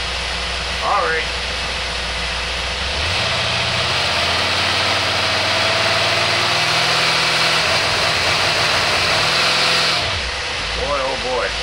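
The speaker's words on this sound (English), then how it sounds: "You'll hear the motor dog down as soon as I start to accelerate." An engine fitted with a Carter AFB 3540 carburetor idles, then rises and drops in pitch as it accelerates under load, with a fan roaring loudly over it and voices talking throughout.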